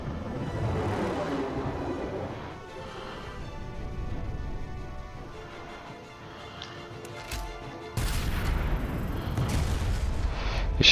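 Gunfire in a video game, with sharp shots and heavier booms scattered through the stretch, moderately loud and ending in a denser burst near the close.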